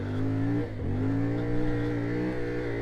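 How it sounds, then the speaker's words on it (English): A CFMOTO Ibex 450 adventure motorcycle engine revving hard and steadily, a loud close droning buzz with a brief dip near the start before climbing back to sustained high revs. "Okay, lots of revs."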